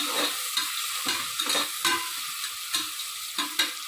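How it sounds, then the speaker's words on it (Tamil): Onions frying in a pan until golden brown for mutton nalli biryani, a steady sizzle broken by repeated scraping stirs at a loose rhythm, close and alone with no voices. "நல்லா பொன்னிறமாக வறுத்துடலாம்"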